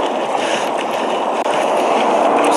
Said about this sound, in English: There's water coming into the car.